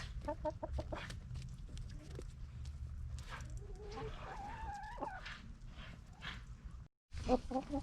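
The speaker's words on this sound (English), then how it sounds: "She's our Dominique, which is the striped chicken." A striped Dominique hen clucks and murmurs close by among other chickens on a farm, with soft rising and falling calls over a steady low background rumble, briefly cut off near the end.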